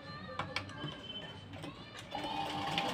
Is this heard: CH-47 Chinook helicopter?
no